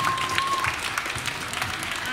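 Applause at a fan meetup in a family park, with a small crowd clapping steadily at moderate distance for about two seconds.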